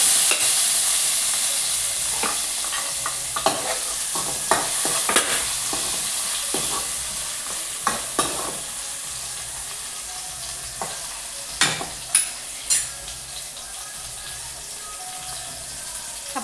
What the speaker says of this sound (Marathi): आपण आता तेलामध्ये जिरं टाकून घेऊ आता आपण कांदा टाकून घेऊ टमॅटो टाकून घेऊ